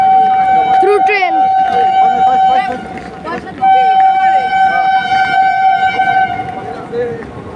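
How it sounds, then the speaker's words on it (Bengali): Kolkata-Patna Garib Rath Express train passing close by, a loud sustained horn blaring over continuous rumbling and clattering of carriages, with voices talking over it. "কলকাতা পাটনা গরিব রথ এক্সপ্রেস, না পাটনা কলকাতা।"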